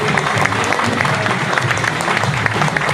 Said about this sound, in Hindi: अपने लिए जोरदार तालियों